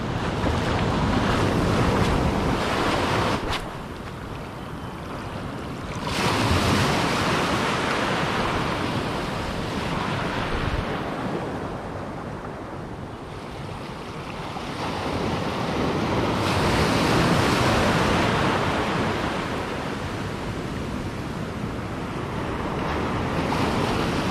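Strong sea waves surge and crash continuously at a fishing spot along the shore, swelling and fading in loud, broad washes mixed with steady wind buffeting.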